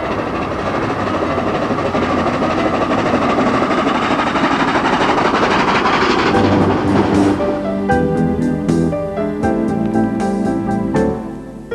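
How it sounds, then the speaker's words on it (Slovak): The 1954 steam locomotive Albatros, still able to pull trains at up to 120 km/h, runs loud and close: a steady heavy rumble that gives way to rhythmic clatter and clanking wheels on rail joints. "Krásny párny rušeň dostal pomenovanie Albatros."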